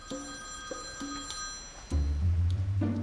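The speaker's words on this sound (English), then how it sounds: "is a home phone designed to allow your dog to call you and vice versa" A prototype home phone that a dog activates rings with short electronic chirps in quick bursts, followed by a louder low tone near the end.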